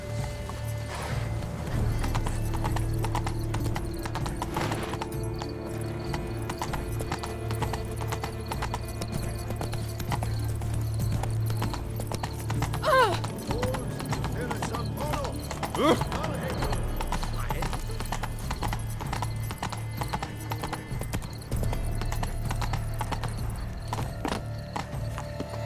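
Horse hooves clip-clopping steadily at a gallop in the Witcher 3: Blood and Wine video game, a near and continuous beat with a brief whinny, heard under game music and talk by characters.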